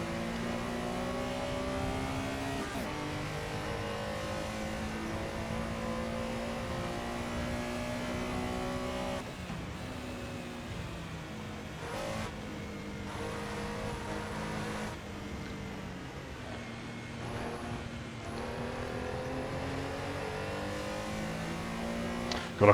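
Race cars at the Snetterton circuit during a classics race. Engines rev up and down through the gears repeatedly, loud and close, with shifts and accelerations heard throughout.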